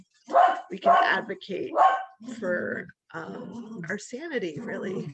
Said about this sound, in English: that's my dog in the background barking at imaginary people outside